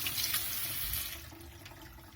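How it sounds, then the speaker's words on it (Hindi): Black currant berries washed under running tap water in a kitchen sink, a steady soft splashing stream that eases slightly toward the end, no voices. "ब्लैक करंट्स को अच्छी तरह साफ़ कर लिया है और अब हम इन्हें धो लेंगे।"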